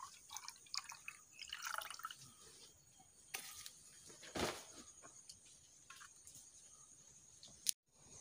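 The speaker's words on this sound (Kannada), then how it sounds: "ನಾನು ಈಗ ಇದಕ್ಕೆ ಹುಣಸೆ ರಸವನ್ನು ಕೂಡ ಸೇರಿಸಿಕೊಳ್ತಿದ್ದೇನೆ" Tamarind juice is poured into a vessel, faint close drips and a brief liquid splash over quiet background, with a few small ticks and clinks.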